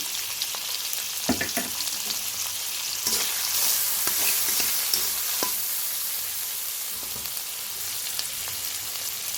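Baila fish sizzles in a pan with turmeric, chili, tomato and salt while a spoon stirs it. A constant close hiss is punctuated by scattered scraping taps.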